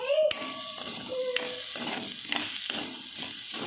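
Crumbled paneer filling stirred together with salt and chopped coriander, producing a soft continuous scraping and mixing noise with a few brief clicks of the utensil against the bowl, and faint tonal kitchen sounds near the start.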